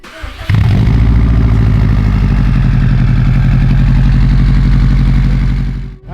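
A Subaru STI fitted with a carbon fiber exhaust cranks and fires up, then settles into a loud, steady, close-up idle with a deep rumble that holds until it cuts off at the very end.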